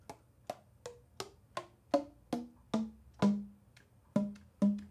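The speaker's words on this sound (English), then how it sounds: "That's the sound of a horn that's sealing pretty well." Jean Paul USA AS-400 alto saxophone pad leak test: a steady series of about a dozen hollow keycup pops and taps, each sharp with a short resonant ring, played close and fairly quiet.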